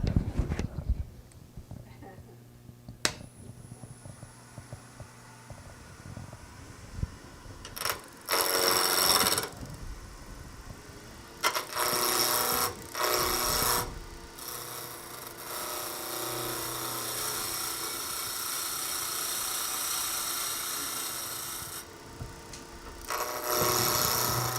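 A skew chisel cutting wood on a lathe while turning a Christmas tree ornament, giving intermittent loud bursts of scraping and shaving between quieter stretches of motor hum.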